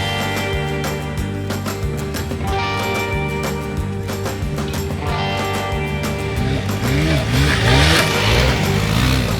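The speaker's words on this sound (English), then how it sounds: "First up, we're gonna go hit some sand whoops." Honda CRF300L dirt bikes with upgraded suspension ride through sand whoops, engines revving up and down in steady rhythmic surges, loud and close, building louder toward the end.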